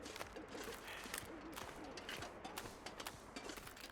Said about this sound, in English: Those bird noises are loud.